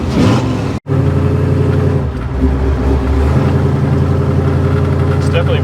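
A rich-running hot rod engine idles steadily and loud up close, its low throbbing rumble continuous throughout with a brief cutout near the start.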